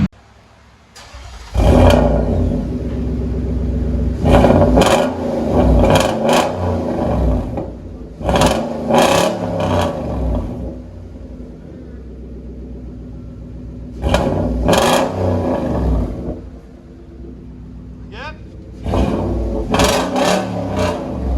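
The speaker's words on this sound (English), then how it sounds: "Straight pipe duals." Loud, deep exhaust revving from a Nissan Titan 5.6L pickup with straight pipe duals, several throaty bursts rising and falling over a steady idle rumble, close up, with no talking.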